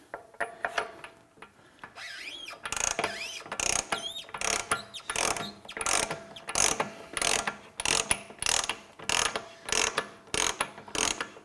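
A center-lock wheel nut on a 2014 Porsche GT3 is worked loose with a ratchet, giving a close run of quick rhythmic clicks and pawl bursts repeated many times.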